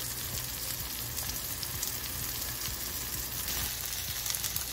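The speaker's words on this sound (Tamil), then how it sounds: "ஃபிஷ் ஃப்ரை நல்லா வெந்துட்டுருக்கு" Fish frying in oil, a steady, even crackling sizzle held at a low, constant level throughout with no voices.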